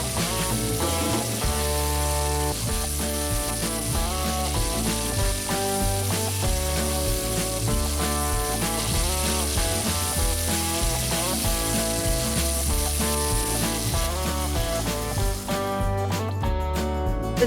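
Kimchi fried rice sizzling in a hot pan as soy sauce and ketchup are stirred in, a continuous loud frying hiss with scraping stir sounds, while music plays throughout.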